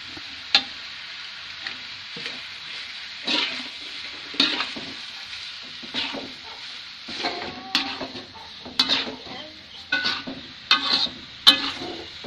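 Noodles in a pan are stirred with sweet soy sauce after a little water is added, producing repeated scraping and clinking against the metal over a gentle sizzle, close and steady with no speech.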